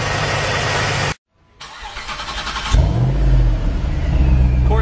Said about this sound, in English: Corsa exhaust.